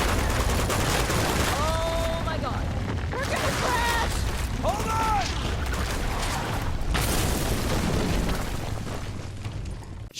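Gunfire and explosive bursts from the action video game Uncharted 2: Among Thieves Remastered, a dense, continuous barrage of shots and booms with game voices and music mixed in throughout.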